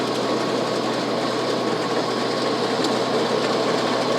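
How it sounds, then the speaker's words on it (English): IBEX TX31 mini baler wrapping a hay bale in a field, giving a steady, loud mechanical whirring and rattling drone that holds constant throughout without pauses or speech. "So now it's wrapping the bale."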